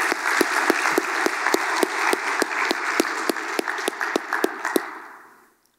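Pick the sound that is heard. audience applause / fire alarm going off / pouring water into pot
audience applause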